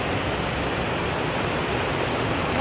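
Strong current of the Tinipak River in Tanay, Rizal rushes steadily past red rock formations, a loud, close, unbroken roar of turbulent water with no voices.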